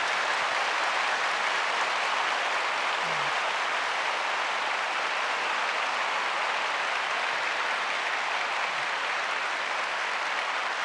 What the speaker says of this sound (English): To all of them also, we will give a big round of applause.